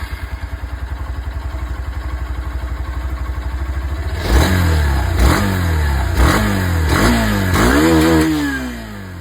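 Hero Xtreme 160R 2V motorcycle engine idling with a steady rapid pulse, then blipped through several sharp revs that rise and fall back, loud and close with no talk.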